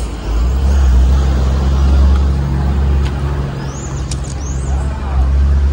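A 350W electric scooter ridden with the motor on its second speed level among road traffic, with a steady loud rumble of wind and passing vehicles throughout.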